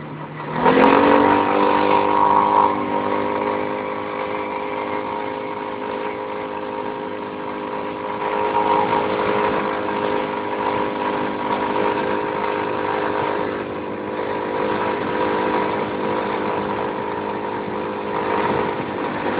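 An Apache RLX320 utility quad bike runs a lap around a field, its engine giving a continuous buzzing drone that revs briefly at the start and then holds steady, close and fairly loud with no voices.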